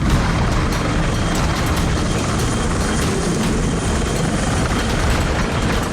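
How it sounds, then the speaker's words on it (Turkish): A rescue helicopter hovers low over a house rooftop during flood rescues, its rotor and engine roar loud, dense and unbroken the whole time, with no voices. "Helikopter çatının üzerine geldi."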